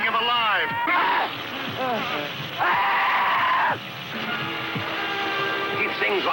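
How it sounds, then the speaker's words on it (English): A man screams while being eaten alive in a sci-fi film, long wailing cries rising and falling in several bursts, loud and harsh over a rushing background. "Listen to those screams. They're eating him alive."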